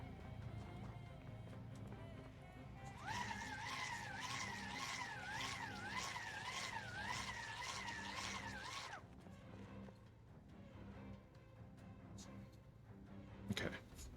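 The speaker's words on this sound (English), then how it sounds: "We're gonna leave the car running." A car idles and revs in Project Zomboid, with a steady, wavering engine tone that skids along for several seconds before cutting out, over a low background rumble.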